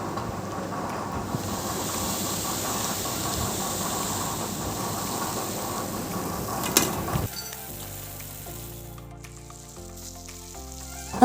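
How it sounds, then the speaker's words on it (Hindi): Chana dal pakoras fry in hot oil with a dense, steady bubbling sizzle for about seven seconds, then the frying gives way to background music. "ये देखिए हमारे जो पकोड़े हैं वो अच्छे से फ्राई हो चुके हैं।"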